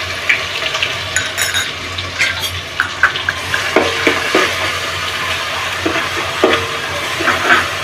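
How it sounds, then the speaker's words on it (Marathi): Ginger and garlic sautéing in hot oil for Bhandari-style mutton sukka, a loud, close sizzle broken by clattering stirring strokes and bubbling bursts throughout. "लसूण जरा परतून घेऊ"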